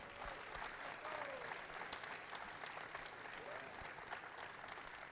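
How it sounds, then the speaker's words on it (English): Applause for a group of senior players at a Western Illinois selection show, a sustained, fairly faint patter of many hands clapping from a crowd, with a murmur of voices underneath. "I think they deserve a round of applause."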